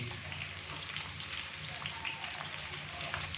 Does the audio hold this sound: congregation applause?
no